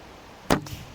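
An arrow fletched with natural feathers, shot in casual archery practice, hits with one abrupt, loud thwack that decays quickly, then a faint second knock follows.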